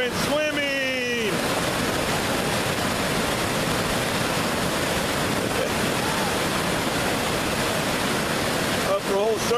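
Whitewater churning through a river hole at Nanty Falls, a loud, steady broadband roar of rushing water that fills the whole stretch, with brief whistles or calls near the start and end.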